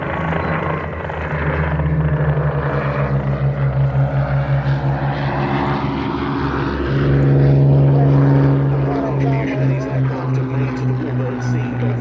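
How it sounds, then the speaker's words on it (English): Yakovlev Yak-3 UTI propeller fighter flying at the Duxford Battle of Britain air show, a steady loud engine drone with a pulsing rhythm that swells near the middle as it passes close, with a voice talking over it. "Here is the Yakovlev Yak-3 UTI PW."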